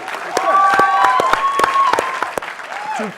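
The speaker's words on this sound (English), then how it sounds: "give them a clap, guys" Scattered, crisp claps from a small studio audience on a London evening talk show ring out between and beneath people talking, a handful of distinct sharp hits rather than a full ovation.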